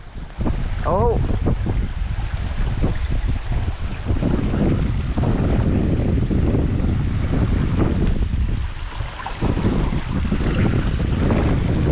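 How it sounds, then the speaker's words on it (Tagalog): Strong wind blows outdoors in a rainy, hot vegetable garden where patola is being picked. It roars steadily and loudly across the microphone, with heavy buffeting throughout. "Hangin."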